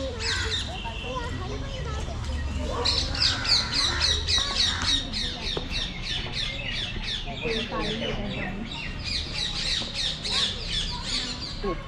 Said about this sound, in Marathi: पोपटांची आवाज.